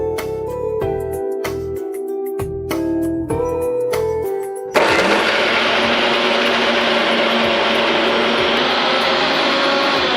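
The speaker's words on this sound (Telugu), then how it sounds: "సో ఉట్టి రాజ్మానే మిక్సీ పట్టుకుంటున్నాం" A kitchen mixer grinder blitzing boiled rajma beans: after some clicks and knocks, the motor kicks on abruptly and grinds with a loud, steady whirring roar to the end.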